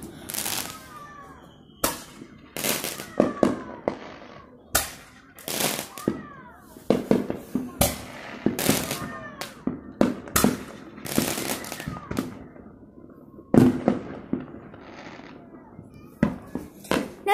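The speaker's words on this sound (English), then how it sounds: "Hear that in the background? That's fireworks." Repeated loud Fourth of July firework bangs and crackles burst outside at irregular intervals, some close together, with whistling trails between blasts.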